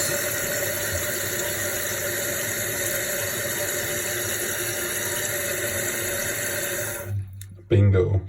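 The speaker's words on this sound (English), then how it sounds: "our water line is filling up the fill pipe in there exactly, no splashing around" A toilet tank with thrift-store parts refills through its fill valve after a flush, a steady close hiss of running water that cuts off near the end, followed by a short knock.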